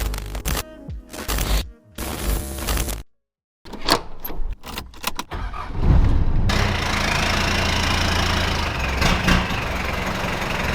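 A Mitsubishi Triton 4WD engine idles as the truck pulls into a garage, a steady low rumble filling the second half after a choppy stretch of clunks, bangs and a brief silence.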